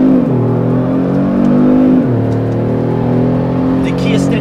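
A twin-turbo Kia Stinger sport sedan accelerates hard up close, its engine note climbing loud and steady, dipping at a gear change, then rising again while a person talks over it.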